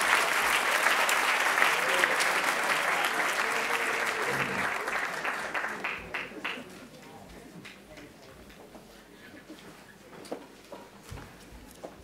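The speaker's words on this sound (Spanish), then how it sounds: "Vamos a recibir también con un aplauso a Paolo Lombardo, profesor y director de contenidos y tutorías de EUDE Business School." Graduation ceremony audience at a business school applauding a professor and director, loud sustained clapping that gradually thins into scattered claps and settles toward quiet.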